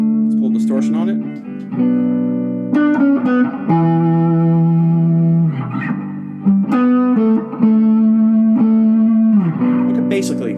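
An electric guitar with heavy distortion plays sustained, bending melodic phrases, loud and close, alone without talk.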